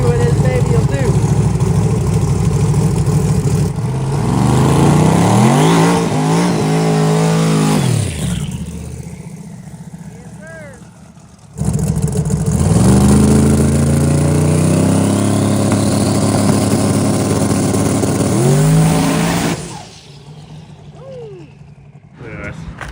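A 5000 hp Chevrolet Camaro on 275 drag radials makes an eighth-mile pass, its engine screaming through rising revs, then cutting out, then roaring up again in a second long, loud run before fading.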